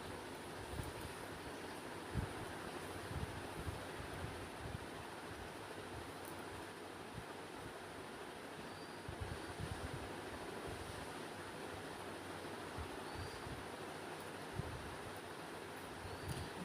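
Tel pitha batter fries in hot oil with a continuous, even sizzle and crackle that carries on unbroken, with no talking.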